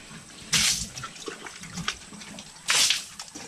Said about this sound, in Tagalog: O tapos hahakutin niya dun yung tubig para ibuhos dun sa koral ng baboy.